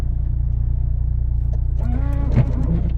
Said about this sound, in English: Right, smart car's moved.